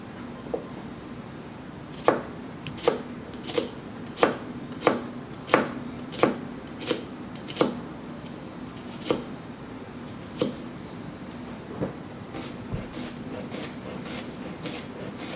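A Tokageh Santoku Classic Series 7-inch knife slices through a shallot on a cutting board, making a series of crisp, close cuts in a steady rhythm that spaces out and fades toward the end.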